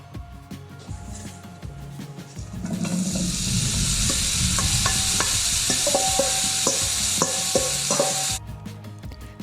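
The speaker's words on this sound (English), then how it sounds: "When you add the vegetables to the pan, you should hear it sizzle" Okra sizzles loudly in a hot oiled pan, a dense steady frying hiss that swells after a quieter start and holds with scattered pops and stirring clinks before cutting off near the end.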